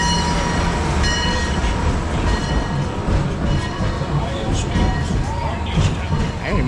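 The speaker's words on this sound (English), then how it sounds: "I didn't even know Six Flags Over Georgia had a train" An amusement park train at Six Flags Over Georgia rumbles steadily with a constant mechanical roar and faint rail clatter. Crowd noise and a nearby voice blend into the continuous dense background.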